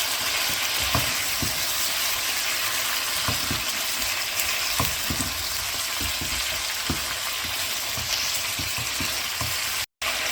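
Salt, red chilli and turmeric sizzle and fry in hot oil for chicken korma while being stirred, a steady close frying hiss broken by repeated soft scraping strokes of the spoon against the pan, no voices.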